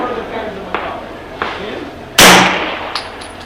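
A 1911 pistol fires a single loud, sharp shot at a range target, the blast decaying over about a second, with fainter knocks and clicks before and after.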